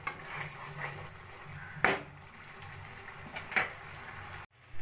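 A spice paste gently fries on low flame for an egg dish, giving a soft, quiet sizzle broken by two sharp scraping strokes of a spatula, with no talking.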